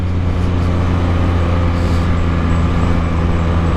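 A Can-Am Spyder F3-S three-wheeler fitted with an Akrapovič muffler, riding along with a loud, steady low engine drone and constant wind and road rumble, no voices.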